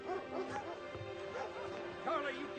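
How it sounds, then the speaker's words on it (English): A dog gives a few soft barks and yips mixed with whimpering, faint and slightly distant, with voices talking around it. "Charlie, you keep that damn dog under control."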